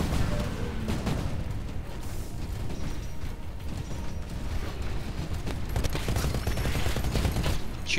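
Heavy mech-scale gunfire from Titans in the video game Titanfall, a dense continuous barrage of rapid shots and mechanical clatter filling the whole stretch, loud and steady with no talk.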